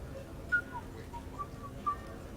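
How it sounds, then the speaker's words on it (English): A character in the Mass Effect 3 Citadel DLC whistles a short, faint tune of three thin notes over a quiet game ambience. "Are you whistling?"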